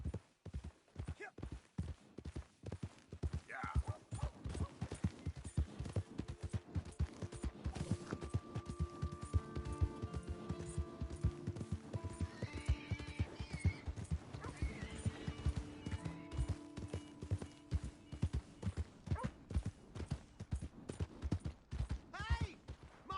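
Horse hooves clip-clop steadily in Red Dead Redemption 2, a sustained even gait with occasional whinnies, faint music and voices underneath.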